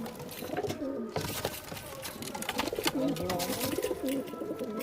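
Kaldume pigeons in a loft coo repeatedly in low, rolling phrases close by, over a busy background hiss.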